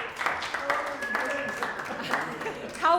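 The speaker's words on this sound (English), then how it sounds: "Give yourselves a round of applause." A group at a nonviolent direct action training gives themselves a round of applause, moderate clapping that runs beneath overlapping chatter and voices throughout.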